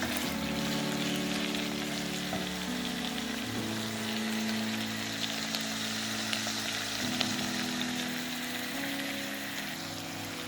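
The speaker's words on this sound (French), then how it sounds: "je laisse revenir les oignons, voilà, dans ma petite casserole" Steady sizzling and crackling of onions frying in a small saucepan, continuous and fairly quiet, with a low hum underneath.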